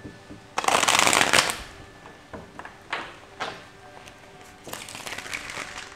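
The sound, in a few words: shuffling and cutting a deck of tarot cards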